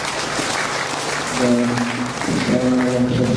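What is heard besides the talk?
audience applause for the speakers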